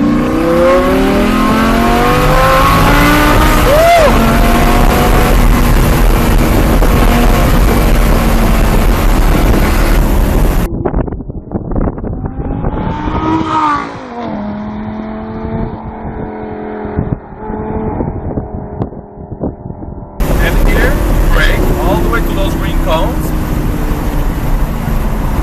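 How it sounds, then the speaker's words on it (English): A Lamborghini accelerates hard at full throttle, its engine roaring loud and close as the revs climb and shift, with a brief interval of quieter engine noise midway before the strong roar resumes. "go floor the car"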